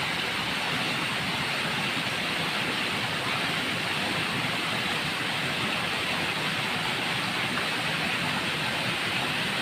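Mountain creek water rushing over rocks and boulders, a steady broadband wash of current at constant level with no voices.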